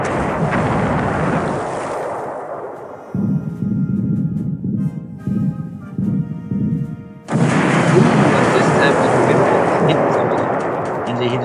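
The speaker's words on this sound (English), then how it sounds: "throw more bombs on the burning ship." Bombs exploding on a burning ship in a Pacific War naval combat game, with heavy booming blasts and rumbling that swell, drop away and return loud and close.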